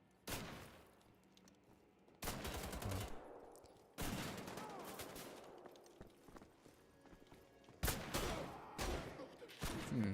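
Shotgun blasts in Wolfenstein: The Old Blood, a handful of sharp, heavy booms spaced a couple of seconds apart, each trailing into a short rumbling decay, fairly quiet overall.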